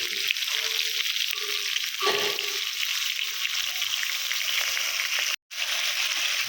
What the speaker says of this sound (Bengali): দেখুন আমাদের মাংসটা ভাজা হয়ে গেছে